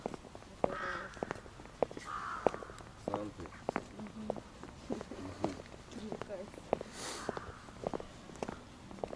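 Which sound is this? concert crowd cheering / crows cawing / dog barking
crows cawing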